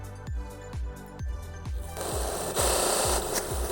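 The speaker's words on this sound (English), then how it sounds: "Let's grab a 1000 grit belt." A belt grinder fitted with a 1000 grit belt works a sashimi knife edge, a motor hum with rapid rhythmic thumping that turns into a loud hissing grind as the blade meets the belt.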